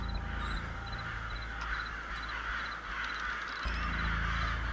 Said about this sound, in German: Und ihr Krähen haltet auch die Klappe.